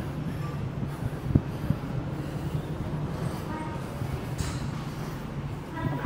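A Tehran metro train rumbles steadily with low droning wheel and car noise, a brief sharp clank partway through, while a person speaks over it.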